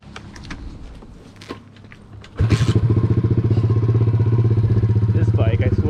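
A Piranha 125 pit bike engine bursts into a loud, steady running rumble partway through, with rapid even firing pulses, after a few seconds of quieter clatter and background noise.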